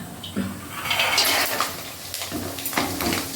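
Peanuts are dropped into a pan of frying chillies, with splashy sizzling and clattering as they land and are stirred, all in a few quick bursts.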